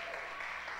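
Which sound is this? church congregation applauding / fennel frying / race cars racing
church congregation applauding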